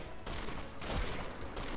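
Rapid bursts of automatic gunfire in the video game Cortex Command, a dense crackling fusillade in several quick volleys, moderately loud with no talk.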